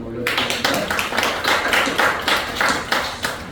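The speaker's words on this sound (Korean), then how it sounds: "한번 하나님의 영광의 박수 한번 올려드리겠습니다." A church congregation in Daejeon claps together in a brisk, even rhythm, loud and close, with a voice faintly present beneath the beat.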